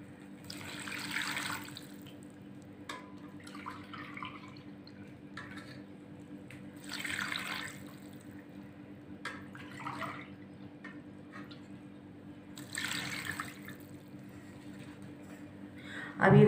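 Three separate splashy pours of water from a glass into a cooking pot for pulao, each lasting a second or two, over a steady low hum with small clinks and drips between them.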